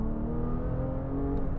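A 2007 Porsche 997 GT3 RS pulls hard in second gear after a downshift, its engine giving a loud, steady, harmonic-rich roar heard from inside the car for a brief moment.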